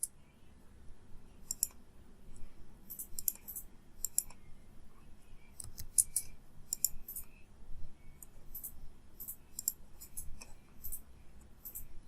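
Computer clicks and key taps while editing a slide video, a steady series of sharp, close clicks scattered across the span, quiet and with no talking.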